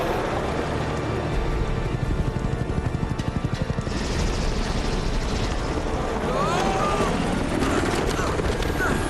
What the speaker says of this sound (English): Elena manages to damage the helicopter and it crashes on Navarro's ship